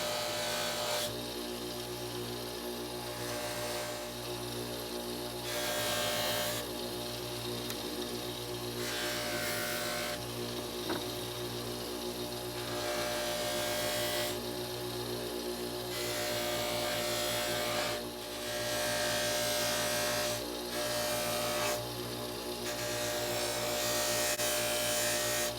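Nickel bolsters and exposed steel of an antique KA-BAR/Union Cutlery pocketknife are buffed with red rouge compound on a motorized buffing wheel, a steady close whirring rub that varies in pressure throughout.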